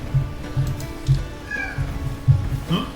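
A cat on a farm meows repeatedly in short, fairly loud calls spaced about half a second apart, with a few higher drawn-out cries near the end.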